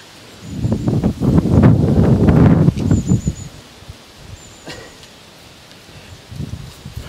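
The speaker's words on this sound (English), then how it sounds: "Wind's picked up a bit now." Wind gusting outdoors at a fishing lake on a sunny, warm day, a loud rustling buffet for a few seconds that then eases to a quiet breeze, with faint bird chirps above it.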